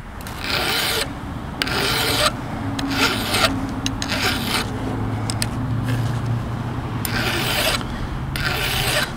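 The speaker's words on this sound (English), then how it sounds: "This is a much more comfortable position for me to be filing my depth gauges." Steady rasping of a file across chainsaw depth gauges, repeated strokes in bursts with brief pauses between them, close and fairly loud with no talking.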